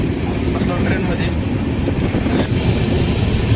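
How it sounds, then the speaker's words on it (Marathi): Nanded-Panvel express train running from Parli toward Latur, heard as a loud, steady rumble of wheels and carriage noise that fills the whole stretch without a break. "मित्रांनो आपली ट्रेन निघाली आहे लातूरच्या दिशेने."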